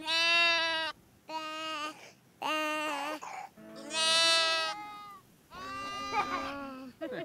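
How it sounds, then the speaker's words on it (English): Lambs on a farm bleat in five separate long, wavering cries with short pauses between them, loud and close, with no talking over them. "The lambs make this sound."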